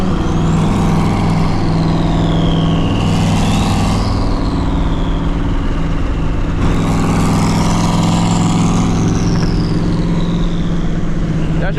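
A turbocharged BMW 335is accelerating hard at a street sideshow, engine rising and falling in pitch through two loud revving pulls, close and continuous with open windows.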